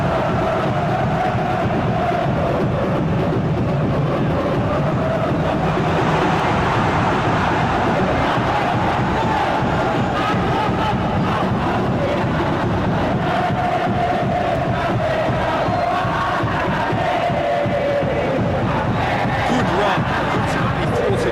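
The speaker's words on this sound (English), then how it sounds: "The crowd appreciates good football all round there." Simulated stadium crowd in the PES 2021 football video game during a Madura United vs PSIM Yogyakarta league match, a steady roaring wash of crowd noise with swelling cheers, continuous throughout.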